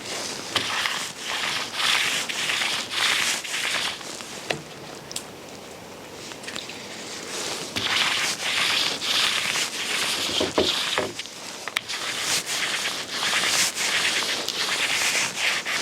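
Minwax Classic Gray 271 wood stain being wiped onto wooden boards with a cloth, a steady close rubbing and swishing in repeated back-and-forth strokes, fairly loud and continuous with a brief quieter lull partway.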